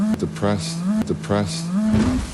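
Cows mooing, two long low calls one after another, each swelling and fading, loud and close, with a voice briefly audible near the end.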